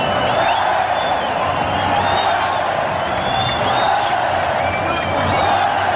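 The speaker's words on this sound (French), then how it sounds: "Les cris, c'est quand dans la brasse, tout d'un coup, il monte." A packed crowd of about 15,000 at an indoor Olympic swimming arena in Paris roars continuously during a 400 m individual medley breaststroke leg, with dense cheering and whoops swelling throughout.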